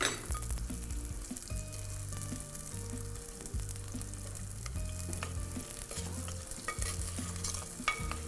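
Diced onions sizzle in hot oil with half-cooked potatoes for chicken handi, a loud continuous frying hiss with steady stirring scrapes close up and no talking.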